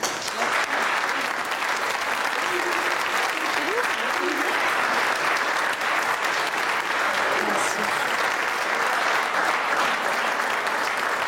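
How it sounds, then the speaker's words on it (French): Steady broadband applause from a fire brigade audience at a Paris firefighters' station in Montreuil, honouring a firefighter. The clapping is dense and sustained for the whole stretch, with faint voices mixed underneath. "On peut l'applaudir, je pense."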